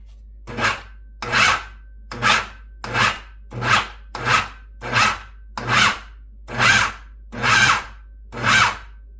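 A food processor pulses a coarse mixture for a chile relleno filling, ten short even bursts of whirring and chopping in steady rhythm, close and fairly loud, with silence between bursts and no talk.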